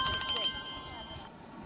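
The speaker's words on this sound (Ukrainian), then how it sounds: "Мама дзвонить." A mobile phone ringtone plays loudly nearby in a series of bright repeating electronic tones that fade off after about a second; a person speaks over it.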